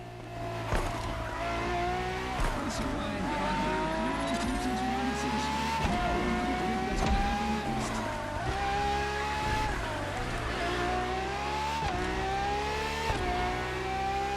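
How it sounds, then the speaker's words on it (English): A Ferrari FXXK supercar in The Crew Motorfest racing game, its engine note rising and falling steadily through repeated gear shifts with rev climbs, close and loud, with brief tire squeal and no talking. "for this second lap, you'll be driving the FXXK"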